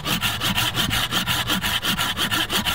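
A Bahco Laplander folding saw rasps through a 3 inch wooden branch in even, rapid push-pull strokes, close and steady with no talking.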